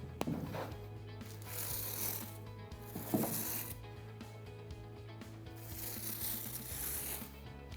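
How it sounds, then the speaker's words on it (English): Scratch tool raking horizontal lines across a fresh mortar scratch coat for manufactured stone, a close, steady gritty rasp in long repeated strokes with brief pauses between passes. "Now we're going to scratch it. This is why we call it the scratch coat."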